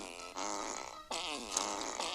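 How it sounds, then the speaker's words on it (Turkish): Two loud, buzzy, drawn-out farts from a video game sound close and wet, each lasting about a second with a short gap between them. "2 metre osuruyoruz vallahi"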